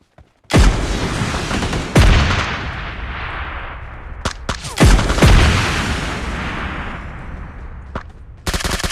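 Gunfire and rocket blasts in a shooter video game, with loud booming hits at the start and middle, scattered sharp shots between, and a heavy rolling rumble that fades out before another burst at the end.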